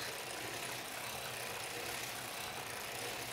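An antique sock knitting machine is cranked at a steady, constant speed, giving a continuous, even mechanical whir with a dense, hissy texture and no talking.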